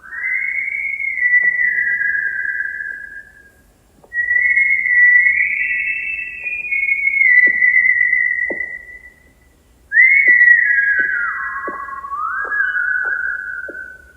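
Long melodic whistling in sustained tones with sliding pitch, three phrases separated by brief pauses, with faint clicks underneath.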